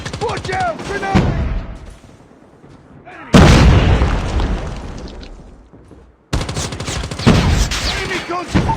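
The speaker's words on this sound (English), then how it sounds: "Watch out! Grenade!" Dense bursts of automatic gunfire and loud booms from a grenade explosion in the Call of Duty Mobile game, arriving in three heavy clusters separated by quieter gaps, with game voice lines between them.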